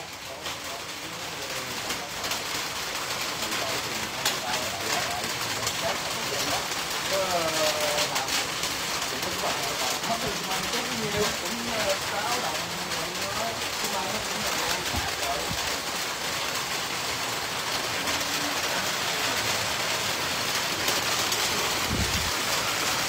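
Rain falling, a steady broadband hiss of drops continuing throughout, with people talking over it.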